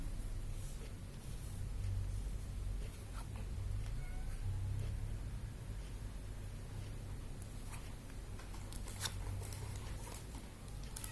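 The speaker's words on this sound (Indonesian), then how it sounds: "banyak kucing nih, agak berisik sedikit ya" Several cats meow intermittently in a room, faint and scattered over a soft background hiss, with brief rustling and clicking noises in between.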